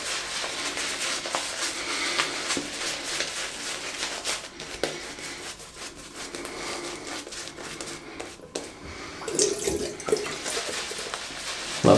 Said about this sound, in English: Just adding a little bit of water there.